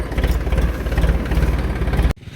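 A tractor engine idles with a steady, loud low-pitched throb that cuts off abruptly just before the end, leaving a faint rumble. No one speaks.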